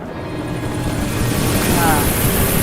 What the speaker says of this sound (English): Chopper is here.